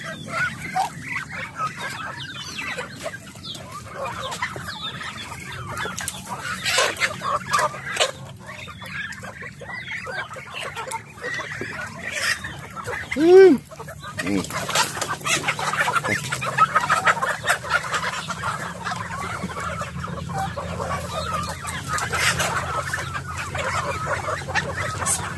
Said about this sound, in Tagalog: Pato, pabo, manok.